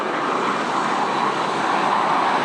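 Steady, loud roar of Alpha Jet military jet engines in formation flight with the Patrouille de France, a dense unbroken drone heard close up as if from inside or beside the aircraft.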